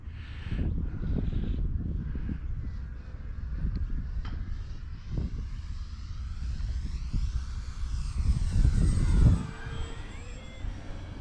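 An FMS P-51D Mustang RC model plane, a 1100mm 4S electric warbird, flies at full throttle with a whining motor and propeller buzz that swells and fades as it passes, rising to a louder close pass near the end.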